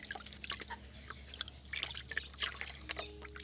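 Running water trickling and dripping over a hard pumpkin as it is washed, faint irregular splashes and drips against a low steady hum.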